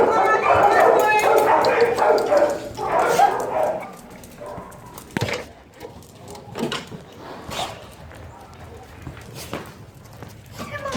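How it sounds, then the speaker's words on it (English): Several dogs bark as they are led out of an animal shelter for a transport. Short barks and whimpers mix with footsteps, and people talk nearby. "just a bunch of dogs leaving the shelter"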